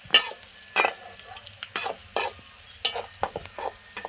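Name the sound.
frying onions in a pan for fish puttu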